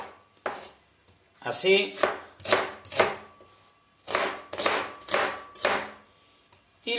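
A knife chops an onion into three or four pieces on a cutting board: sharp, close thuds in short rhythmic bursts separated by brief pauses, with a word spoken softly.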